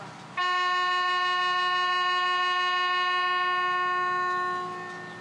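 A small train at Bantou art village sounds its horn in one long, loud, steady tonal blast close by, which holds evenly and then tapers off slightly at the end.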